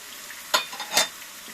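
Spinach cubes dropped into a pan with eggs, two short sharp sizzling bursts close by over a quiet background hiss.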